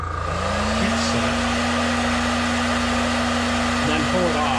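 Heat gun heat-setting paint on a fishing lure, a loud steady whining blower hum that runs throughout with a constant tone and no gaps.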